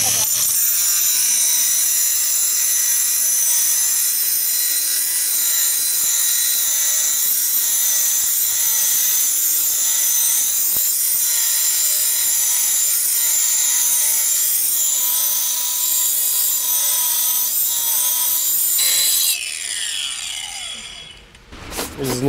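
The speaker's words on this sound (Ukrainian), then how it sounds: "для акумуляторної болгарки, в якої 8 тисяч оборотів, ріже доволі нормально" A cordless angle grinder at 8,000 rpm with a 125 mm diamond disc whines steadily at high pitch while cutting, continuous and close for about twenty seconds, then winds down near the end.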